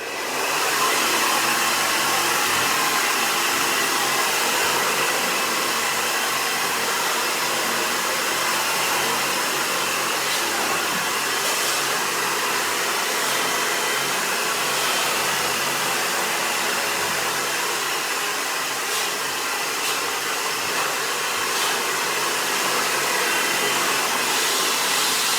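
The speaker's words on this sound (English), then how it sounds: "I'm gonna keep blow drying" A handheld blow dryer drying hair runs loud and steady at close range for the whole stretch, a continuous broadband whoosh with no talking.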